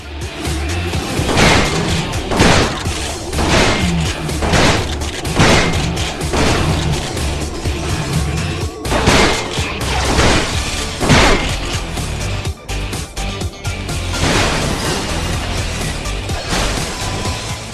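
Repeated heavy explosions in the video game Ratchet and Clank Future: A Crack in Time, loud booming blasts and crashes arriving every second or so over a dense, continuous action soundscape.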